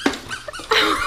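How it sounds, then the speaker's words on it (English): A squeaker in a Bark Box dog toy gives a few quick, loud, close squeaks in about a second. "That squeaker is coming out of that."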